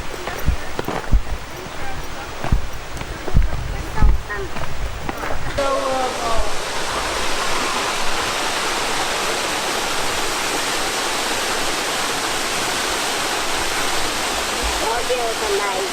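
Water rushes over worn rocks at a waterfall, a steady broadband roar that settles in after a few seconds of knocks and movement close by.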